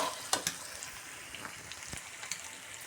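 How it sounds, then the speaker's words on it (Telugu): Chicken frying in a pan gives a steady, quiet sizzle with a few sharp pops and crackles near the start, and no voices. "చికెన్ ఎలా ఫ్రై అయిందో చూద్దామండి ఒకసారి."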